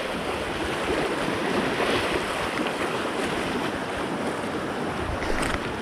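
Large waves surge and crash continuously along a shoreline at Biwas where tilapia are fished, a steady broad roar with wind buffeting the microphone throughout, no talk.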